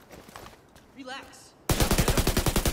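Loud, rapid automatic gunfire in The Division 2 starts abruptly after a short stretch of talk and continues as a steady, evenly paced stream of close shots to the end.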